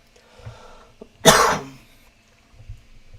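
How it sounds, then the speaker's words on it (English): A single loud, harsh cough bursts out close by, with fainter throat noises and breathing before and after it in an otherwise quiet room. "this cough is getting really annoying."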